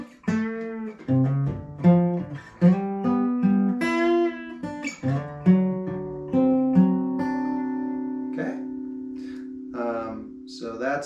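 An acoustic guitar plays the turnaround from Marcus King's Wildflowers and Wine, plucked notes and arpeggiated chords ringing out clearly in a solo, close-up performance with no voice.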